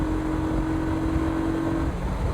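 Honda Pacific Coast PC800 motorcycle engine accelerating on a roll-on at highway speed, a steady loud drone with a sustained rising tone under heavy wind rush, no voices.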